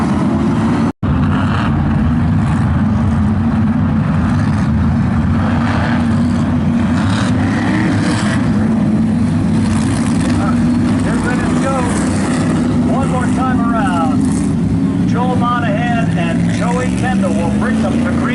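Sportsman Modified race cars circle a short oval on hot laps, a steady loud engine drone rising and falling as cars pass, with crowd and track noise underneath.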